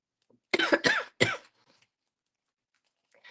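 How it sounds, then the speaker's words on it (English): Three quick coughs, close and loud, come in a short burst and are followed by near silence. "I apologize, guys, for coughing in your ear."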